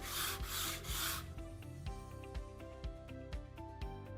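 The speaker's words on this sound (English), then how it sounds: "If you needed to sand on this base cap, you could use a straight edge and just sand along that." Sandpaper is rubbed by hand along a wooden base cap against a straight edge, at first in a few broad scrubbing strokes and then in quieter, rhythmic, regularly spaced strokes, close and faint.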